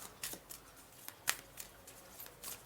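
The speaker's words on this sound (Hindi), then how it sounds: "यहाँ से भी कार्ड एक उठा लेते हैं।" A single tarot card is slid from the deck, with light papery flicks and one sharper snap partway through, quiet and close in a still room.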